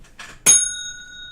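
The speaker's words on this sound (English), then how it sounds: "Ringing the bell for Barry, claiming Demolition Scourge." A bell gets a single ring, a quick strike after a soft rustle, and its bright metallic tone lingers and slowly decays, loud and close.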